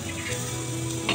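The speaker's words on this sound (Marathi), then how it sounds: "फोडणी आपली छान आता मस्त उकळून झाले" Tempering (phodni) for rava dhokla sizzling hard in hot oil, a loud, close, continuous crackling hiss with no talk over it.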